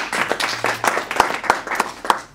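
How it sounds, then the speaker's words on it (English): Brief applause for the lawyers at a human trafficking forum in Rwanda: scattered, uneven claps from a modest audience, loud and close, lasting a couple of seconds with no talk over it. "So big clap for them as well"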